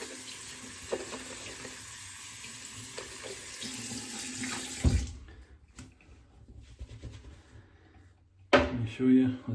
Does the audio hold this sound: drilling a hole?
no